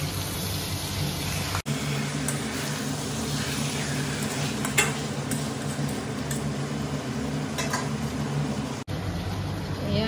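Pieces of mutton fry for a curry in a pan, a soft continuous sizzle with occasional scraping and clinks of a stirring utensil against the metal, fairly quiet and close, no talking.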